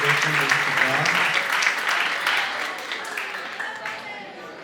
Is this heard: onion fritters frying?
no